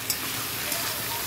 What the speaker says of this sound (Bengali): এখানে তেলের মধ্যে পেঁয়াজ দিয়ে দিলাম